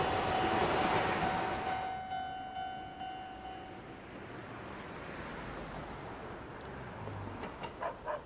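A train rolls past a crossing in the video game Spirit Hunter: NG, a continuous rushing rumble with faint bell-like tones at first, then settling into a softer, steady clatter.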